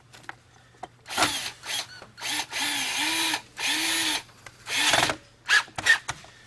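Power drill driving a screw into the suction fan housing of a Kirby Generation vacuum cleaner: close, short whirring bursts that start and stop in quick succession, with small clicks and handling noises between them.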